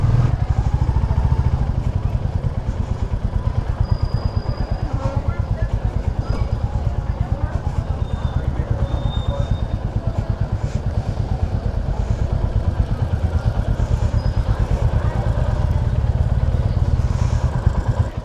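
A Royal Enfield Classic 350 motorcycle being ridden, its single-cylinder engine thumping steadily and loudly throughout with constant wind and road rumble, heard from on the bike.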